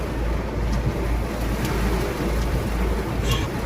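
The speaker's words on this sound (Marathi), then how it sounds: "पाऊस बघा, पाऊस एक नंबर पाऊस आहे" Heavy monsoon rain falling steadily in a village, a dense continuous hiss with a low rumble underneath, heard close and without pause.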